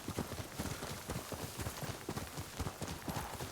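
Horse hooves clip-clop in a steady, rapid rhythm as a mount trots along in the video game Ghost of Tsushima, close and fairly loud, with game ambience underneath.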